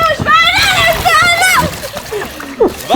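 Someone falls into a swimming pool during a last-one-out pool challenge, making splashing water under excited children's voices and shouting.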